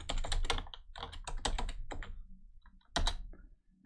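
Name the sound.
typing a password on a computer keyboard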